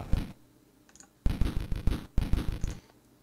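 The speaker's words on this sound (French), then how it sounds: "c'est un son de batterie tel que c'était sur les consoles de jeux vidéo dans les années 80" A chiptune drum kit in the style of a SID synth from 1980s video game consoles plays punchy, crunchy electronic hits in quick bursts. A short opening hit comes before two dense rhythmic runs of clicky percussion, all close and without talk.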